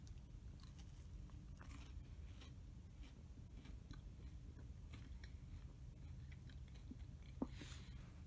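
Someone bites and chews a berry crisp bar with a drizzled topping, making soft, close, irregular crunches over a quiet background.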